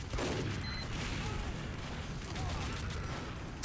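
A bomb explodes in a team-based shooter game during a fight over a contested control point, a loud dense burst of crackling blasts and gunfire that fills the moment, with a voice faintly under it.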